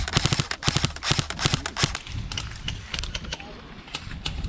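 Rapid bursts of gunfire in a DEA-versus-cartel video game, loud and close at first, then thinning into scattered shots over background noise.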